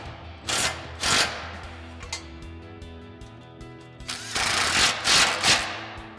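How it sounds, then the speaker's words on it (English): An impact wrench with a 10mm socket tightens bolts on a 2021-2023 Ford Bronco during a Flowmaster FlowFX cat-back exhaust install. Two short loud rattling bursts come early and a longer bursting run comes later, separated by a quieter mechanical hum. "We'll tighten those back down again with our 10mm socket on our impact."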